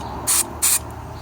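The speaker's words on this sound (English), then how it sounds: "I'm just going to spray some brake cleaner down" Two short bursts of brake cleaner sprayed into an engine boost pressure solenoid port, each a sharp aerosol hiss lasting about a second-fifth, close and loud, separated by a brief pause over faint background hum.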